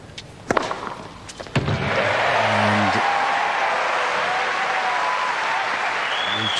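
Australian Open 2002 fourth-round tennis crowd at Safin vs Sampras: a few sharp hits from the court, then a sustained swell of applause and cheering that carries to the end, with a commentator's voice briefly over it.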